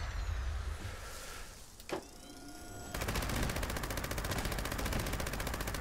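Sustained rapid-fire minigun fire in a video game with a whirring buzz, punctuated by a sharp explosion, then an unbroken stream of dense automatic fire.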